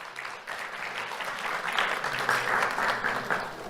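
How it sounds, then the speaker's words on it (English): An awards ceremony audience claps steadily, building slightly louder toward the end, with no voices over it. "Let's have a round of applause for Dylan and Ryan."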